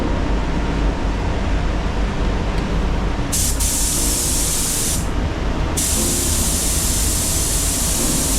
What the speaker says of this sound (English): about to get ready to spray this door first